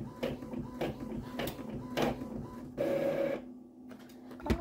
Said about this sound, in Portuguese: agora 1h20 da tarde, tava aqui imprimindo uma encomenda da Magali e da...